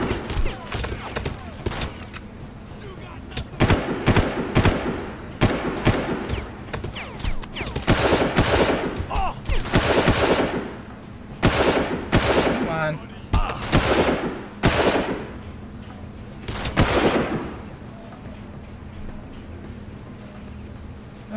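Bursts of enemy gunfire from the Far Cry video game crack out repeatedly across the scene, a mix of rapid machine-gun volleys and single shots, loud and close, with a steady low engine-like hum running underneath.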